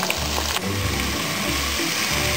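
Potatoes and carrots are stirred in a pot for spring chicken soup, with a loud steady sizzle and hiss over which low scraping stirs repeat in a slow rhythm.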